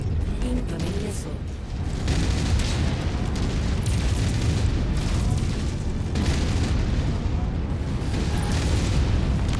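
Missile explosions in MechWarrior 5 combat, with dense continuous rumbling blasts and booms running loud throughout, a few sharper bursts standing out over sustained battle noise.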